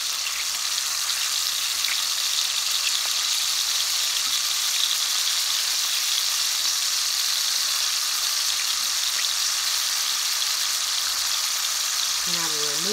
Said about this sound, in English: After I brown the sausage, I will saute